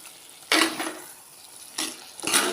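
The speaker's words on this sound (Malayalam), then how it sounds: "ഇടയ്ക്കിടയ്ക്ക് നന്നായിട്ടൊന്ന് ഇളക്കി കൊടുക്കണം, അല്ലെങ്കിൽ അടി പിടിക്കാൻ ചാൻസ് ഉണ്ട്." A spoon scrapes against a pot of roasted-coconut Kerala chicken curry simmering on a very low flame, giving three short, close stirring bursts separated by quiet pauses.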